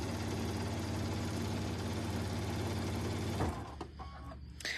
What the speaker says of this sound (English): I am just sewing the side borders on.